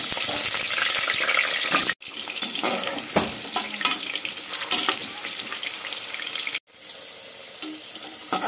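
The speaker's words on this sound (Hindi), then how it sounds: "तेल गर्म हो चुका है, इसमें हम आलू को दे देते हैं।" Potatoes sizzle and crackle steadily in hot mustard oil, loud and close, with brief stirring scrapes and two short breaks in the frying noise.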